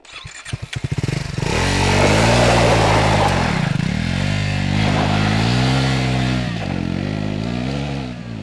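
A Triumph Scrambler 400X motorcycle starts up and pulls away on a gravel forest track, its single-cylinder engine revving loudly in rising and falling surges as the rider accelerates and backs off, close to the rider.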